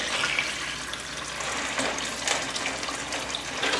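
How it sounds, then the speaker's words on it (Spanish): Water poured over ice while making peach jam, a steady splashing hiss with faint clinks, close and fairly quiet, no talking. "Vamos a agregar agua al hielo."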